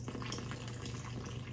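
Warm water pours steadily into a bowl for sourdough dough, a continuous close splashing fill with no pauses and no voices.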